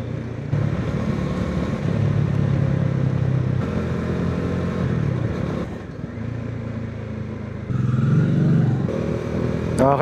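A motorcycle rides along an open highway, its engine a steady, loud drone with road and wind noise throughout, easing briefly near the middle before picking up again with shifts in pitch toward the end.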